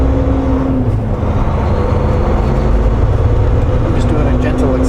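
A Volvo truck pulls away gently in fifth gear at low RPM, its engine a steady, deep drone with a continuous low hum throughout, loud and close from inside the cab.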